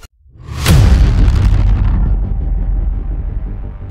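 Heavy shelling in Goma: one loud, close blast with a sharp crack, followed by a deep rolling rumble that slowly fades over several seconds.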